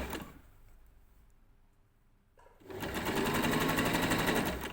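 A sewing machine stitches trim onto a pair of summer shorts: a quiet, slow run at first, then after a pause a loud, fast, steady whirr of the motor and needle close up, with no talk.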